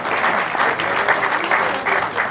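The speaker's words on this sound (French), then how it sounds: "Un grand applaudissement s'il vous plaît" A seminar audience in Larache, gathered for the Mata equestrian heritage event, breaks into loud, steady applause that continues without pause throughout.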